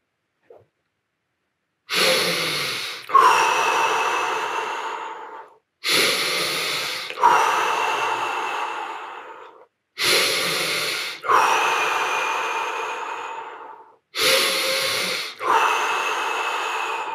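Deep Tummo breathing repeats in four rounds, each a long, loud inhale followed by a full exhale, rhythmic and close, with short pauses between the rounds.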